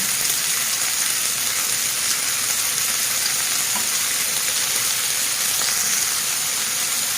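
Potatoes and yardlong beans fry with salt and turmeric in a hot pan, a loud, dense, continuous sizzle and hiss that holds steady throughout, close up and without talk.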